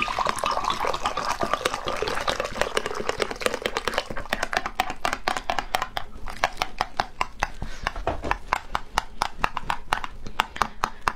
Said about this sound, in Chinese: 然后再来热水